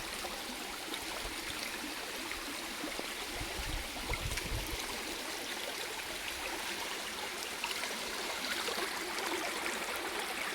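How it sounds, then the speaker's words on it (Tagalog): Water runs through a small channel in Poland, a steady broadband rushing and trickling heard close and continuous, with no talk over it. "may parang daluyan ng tubig"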